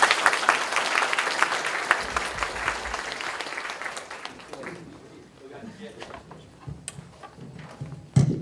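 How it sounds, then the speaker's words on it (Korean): An audience applauds after a lecture at Kyungpook National University, dense, loud clapping that fades out halfway through, leaving scattered claps and room noise. "다시 한번 박수"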